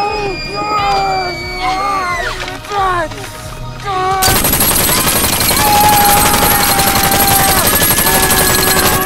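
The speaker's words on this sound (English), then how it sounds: "Shoot the gun!" Gunfire erupts in an art gallery shootout, a sudden dense burst of rapid shots after several seconds of tense music and shouting voices, continuing loud and sustained to the end.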